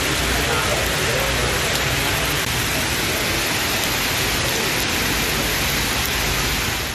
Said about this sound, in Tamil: வேலூர் மாவட்டத்தின் பெரும்பாலான பகுதிகளிலும் கனமழை கொட்டி தீர்த்தது.